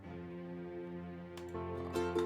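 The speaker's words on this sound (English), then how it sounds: "so I put in some MIDI strings." MIDI orchestral string ensemble from a Cubase session plays sustained chords that swell louder near the end, with no talking over it.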